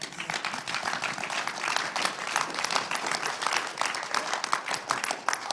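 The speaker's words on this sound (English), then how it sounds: "I probably won't get the round of applause that Bill just did" An audience at a higher-education panel on free speech applauds steadily, a dense, even wash of clapping from many hands that holds throughout.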